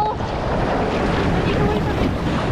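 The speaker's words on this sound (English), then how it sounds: "We need to avoid the waves." Rough ocean waves churn around a kayak, a loud continuous wash of surf and water rush mixed with wind buffeting the microphone, close and unbroken.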